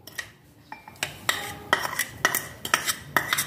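A spoon clinks against a microwave-safe mug as sugar goes in while mug-cake batter is being started, with sharp irregular metallic taps that grow busier toward the end, close up and without talk.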